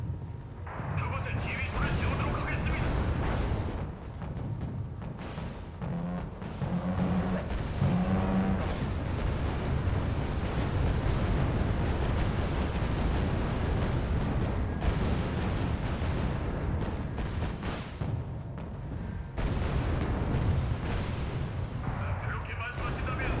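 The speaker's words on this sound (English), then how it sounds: "Oh, Udaloy is hit with an ASM." Anti-ship missile impacts and naval cannon fire in the video game Wargame: Red Dragon, a dense rumble of booms and blasts running throughout, with someone talking over the combat.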